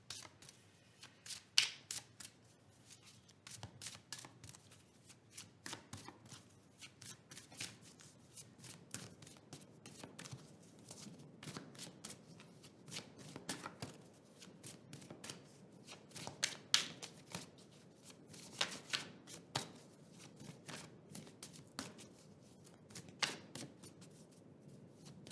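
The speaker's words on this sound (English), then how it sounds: "I'm going to pull a card from my Magical Times Empowerment cards" A deck of Magical Times Empowerment oracle cards being shuffled by hand, giving repeated crisp riffling and flicking bursts in an uneven rhythm, close and moderately quiet, with no talking.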